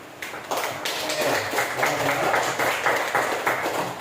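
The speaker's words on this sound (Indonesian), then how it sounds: "Beri tepuk tangan dulu yang" Students clap together in a classroom during a lesson, a steady burst of close hand claps running through the whole stretch after a brief quieter start.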